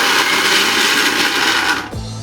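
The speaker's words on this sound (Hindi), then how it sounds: "एठी हमें ग्राइंडर को खाली ऑन करबा पुणी ऑफ कर नबा।" A kitchen mixer grinder whirring loud and steady as it grinds chopped carrots for gajar halwa, then cutting off abruptly near the end as the motor winds down.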